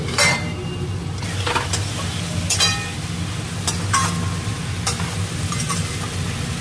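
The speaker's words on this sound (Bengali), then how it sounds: "এর মধ্যে আমি কাঁচা লঙ্কা, আদা আর রসুনের পেস্টটা এবার দিয়ে দেবো" Green chili, ginger and garlic paste frying with browned onions in a pan, a steady sizzle broken by several sharp spatula scrapes and clinks against the metal, close and fairly loud, with no speech.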